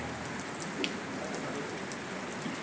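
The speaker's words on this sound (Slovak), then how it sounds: "Spustil sa dážď. Taký, že prvé kvapky na nás už padli." Light rain begins pattering at a lakeside campsite near Lake Garda, a steady soft hiss of drops close by, quiet and alone with no voices.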